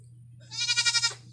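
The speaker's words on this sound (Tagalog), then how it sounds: "pasensya na, may kambing" A single close goat bleat, a wavering nasal cry lasting under a second, over a low steady hum.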